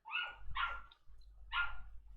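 A dog barks three times in a loud, sharp burst pattern, two quick barks then a pause before a third, close by with a low background hum.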